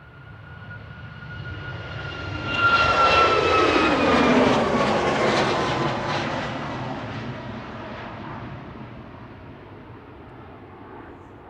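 A Ryanair Boeing 737 MAX 8200 jet departs Manchester Airport, its engine roar swelling loudly as it climbs past with a descending whine, then fading slowly into the distance.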